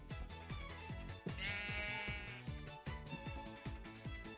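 A Minecraft sheep bleats several times in quick succession, loud and near, the repeated wavering cries falling into a choppy rhythm with no talking.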